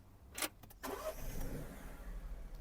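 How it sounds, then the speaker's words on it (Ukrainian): A 2016 Peugeot 3008 engine, started by push button, cranks briefly and catches, then settles into a low, steady idle. "Зараз заведемо авто"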